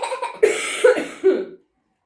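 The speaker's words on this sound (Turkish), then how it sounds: "Aa ne öksürdüm." Three sharp coughs in quick succession, loud and close, preceded by a brief throat sound, then silence.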